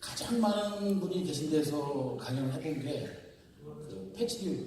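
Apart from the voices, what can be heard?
No everyday noises stand out.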